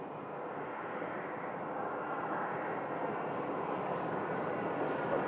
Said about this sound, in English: It's an A320 Neo. And this is Frontier flight from Detroit.